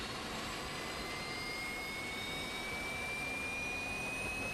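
OV-10 Bronco turboprop engine starting in a flight simulator: a steady jet-like roar with a high whine climbing slowly in pitch as the RPM builds, continuous and fairly loud.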